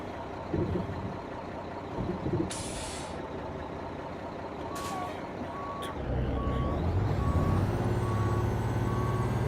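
A Mack R600 truck backs up in American Truck Simulator, a steady reversing beep repeating over the diesel engine rumble, with an air brake hiss early and the engine growing louder as it reverses.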